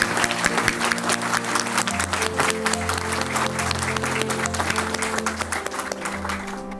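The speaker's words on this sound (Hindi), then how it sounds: "इन सब के लिए जोरदार तालियां, और तालियों में जोर होना चाहिए" A large audience applauds loudly and continuously for several seconds at a speech by a police officer, dense clapping with a low hum and faint voices beneath.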